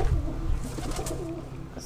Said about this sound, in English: Look at that baby pigeon.